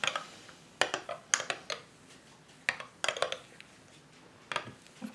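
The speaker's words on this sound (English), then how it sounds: "And just stir it up" A spoon stirs a mocha drink in a cup, making sharp, light clinks against the sides in irregular bursts with short quiet gaps between them.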